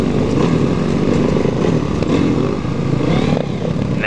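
A sport motorcycle on a group ugly-sweater ride, held in a slow wheelie, its engine a loud, steady, close drone with a faint rattle and a slight change in tone near the end.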